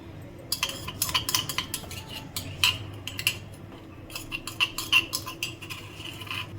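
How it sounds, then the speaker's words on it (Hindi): Roasted whole spices pounded by hand while an aubergine curry cooks, a steady run of close, sharp clinking taps with brief pauses, no talk. "उधर हम इस भुने हुए मसाले को कूट लेते हैं"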